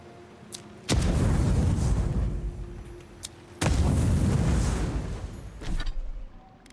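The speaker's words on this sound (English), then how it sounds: "those grenades didn't work" Grenades detonate in the fantasy video game Avowed: two heavy, booming blasts with long rumbling tails, then a third shorter burst, loud and close, with no speech over them.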